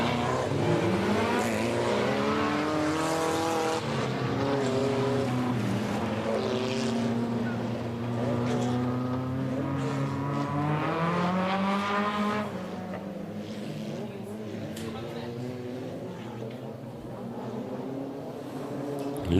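Stock cars at a Border Stockcars meeting pass around the track, a loud sustained engine drone whose pitch swoops up and down as cars accelerate and pass, easing slightly toward the end.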